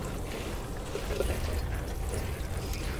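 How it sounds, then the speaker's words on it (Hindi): Water sprinkled over cocopeat for seed starting gives a steady, soft hiss and patter that runs evenly for the whole short stretch, close by, with no talking. "आपको पानी स्प्रिंकल कर देना है"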